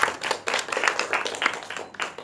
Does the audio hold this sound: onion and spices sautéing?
no